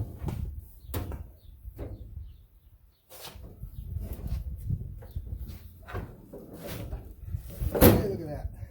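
A Harbor Freight welding cart with drawers is tipped over on a hard floor, giving a series of hollow knocks, rattles and clunks of sheet metal with a louder bang near the end; a person talks at times.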